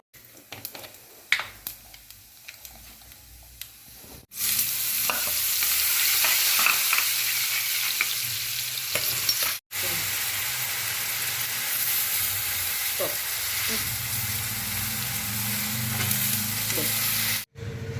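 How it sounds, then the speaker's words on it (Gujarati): Spices temper in hot oil, crackling and sizzling loudly and steadily after a quieter start, with brief cuts in the sound and sharp pops scattered through. "ચાલો વઘાર કરી લઉં"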